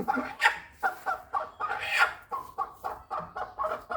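A hen clucking close by in a rhythmic series of short repeated clucks, about a dozen over a few seconds, fairly soft, with no talking.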